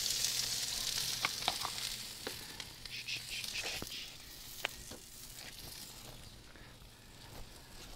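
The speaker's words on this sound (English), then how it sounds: "Drop everything right in there, let it get a good sizzle." Vegetables sizzle and fry in oil in a wok on a Big Green Egg grill outdoors, a steady soft hiss with scattered crackles and pops, fairly quiet and continuous throughout.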